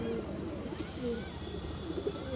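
A breeder pigeon coos in soft, low, repeated calls close by, with a faint background murmur and some light handling noise around it.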